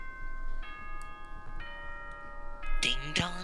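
The Monokuma announcement chime from the video game Danganronpa rings out as a sequence of clear, sustained bell-like tones, ending in a brighter burst of sound, with faint background noise.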